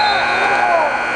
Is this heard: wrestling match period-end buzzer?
yes